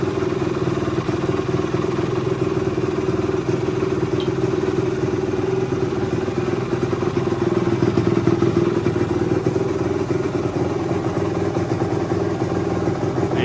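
A 1975 Yamaha DT250 motorcycle engine idles steadily and evenly for the whole stretch, a continuous close, moderately loud two-stroke burble with light mechanical clatter and no talk.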